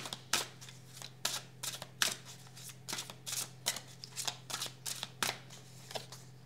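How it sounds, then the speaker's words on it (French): Tarot cards laid down one after another onto a spread, a soft series of close, crisp card slaps and slides in an irregular rhythm over a steady low hum, with no talking. "je vais recouvrir le 5 d'épée"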